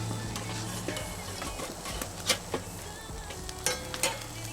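Burgers sizzle on a charcoal grill just after being flipped, a steady close crackle and hiss with a few sharper pops. A low hum runs underneath.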